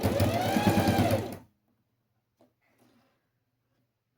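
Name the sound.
sewing machine stitching a glasses case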